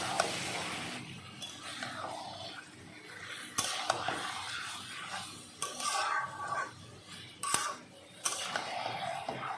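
Meat is stirred and fried over high heat in a pan where potatoes were just fried, with soft, uneven metallic scrapes and clatters of the utensil that come and go in short bursts.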